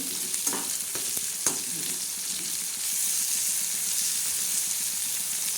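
Tomatoes sizzle steadily in a hot pan while preparing usal, a spicy curry, with a constant bright frying hiss and a few clatters of stirring near the start.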